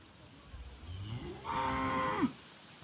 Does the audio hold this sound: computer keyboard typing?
no